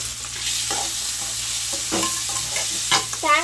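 Tomatoes sauté in a pan for a mixed-vegetable chutney, a steady broad sizzle with repeated scraping stirs of a utensil, close and fairly loud, and no talking.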